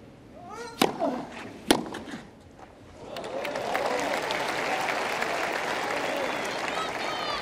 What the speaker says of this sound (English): Applause from the man.